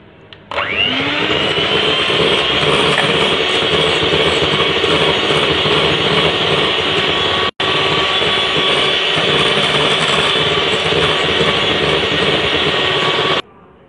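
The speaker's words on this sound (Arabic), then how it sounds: "غادي نضربو حتى يتجمع ليا ويعقد بهاد الطريقه هادي" An electric mixer beats cream for cupcakes until it thickens, a loud, steady high-pitched whir lasting over ten seconds. A brief cut interrupts it midway, and it stops abruptly at the end.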